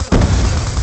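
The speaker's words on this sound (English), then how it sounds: "Grenade! Grenade!" A grenade explodes in the Black Ops II video game: one loud, close blast erupts suddenly and its rumbling roar fills the rest of the short moment.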